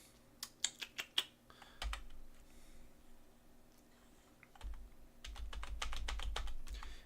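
Computer keyboard keys clack in quick bursts while playing Might and Magic 3, several crisp strokes in a row, a short pause, then a denser run of tapping, close and clear with no talk.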